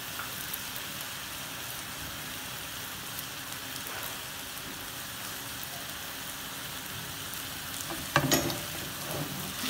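Chicken vegetable noodles fry in a pan with soy sauce and ground black pepper, a steady, dense sizzle throughout, with a brief louder stir near the end and no talking.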